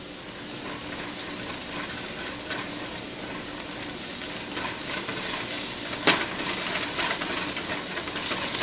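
Garlic, oregano, paprika and cumin sizzle steadily in a hot pan for chipotle pulled pork, a constant close frying hiss with a brief stir clatter near the middle and no talking.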